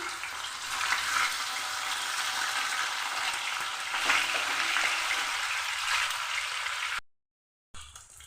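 Pieces of silver carp frying in oil, a dense continuous sizzle with crackling pops throughout, close and loud, cutting briefly to silence before resuming near the end.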